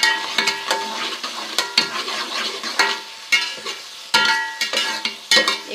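Ground garlic and ginger paste sizzles loudly in a hot pan while a spoon stirs and scrapes through it, giving a continuous crackling fry broken by repeated metallic scraping strokes, with no talking.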